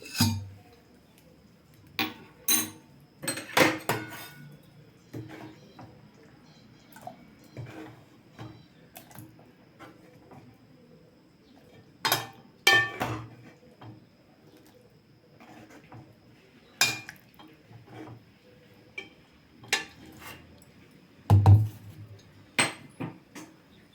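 Eggplant curry, yennai kathirikai kulambu, being moved into another pot, with scattered metallic clinks and clatters of pots and utensils spread across the stretch, some sharp and close, over a quiet background with occasional bird coos.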